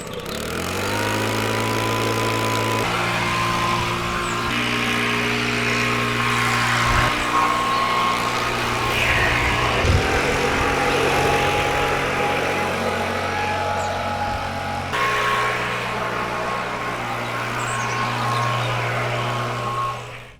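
A leaf blower runs continuously on a black limestone driveway, a loud, droning engine with a steady whine whose pitch shifts slightly as the throttle changes, lasting about twenty seconds with no talk.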